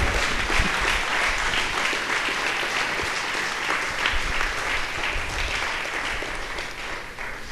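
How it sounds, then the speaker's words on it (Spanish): Steady, loud applause from a church congregation fills the whole stretch, dense clapping with no pauses. "Pide un aplauso al Señor."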